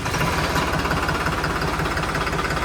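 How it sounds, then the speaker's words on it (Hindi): A New Holland Rocket tractor's diesel engine idles with a loud, steady, low knocking rumble close by, running evenly without pauses or voices. "स्टार्टिंग देखी होगी आपने इस ट्रैक्टर की, बहुत स्लो स्टार्टिंग है भाई"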